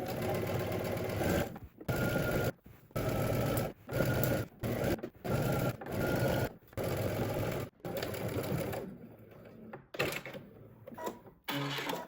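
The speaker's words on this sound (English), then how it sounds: "we're going to head to the sewing machine and we're going to stitch using 5/8 of an inch seam" A domestic sewing machine stitches a skirt side seam at a 5/8-inch seam allowance, running in repeated bursts of steady whirring separated by short pauses. It is close and fairly loud, with no talking.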